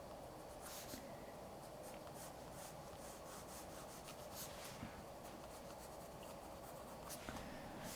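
Colored pencil scratching across paper while sketching a tissue box still life, a faint steady rubbing with short repeated strokes, quiet and close with no voices.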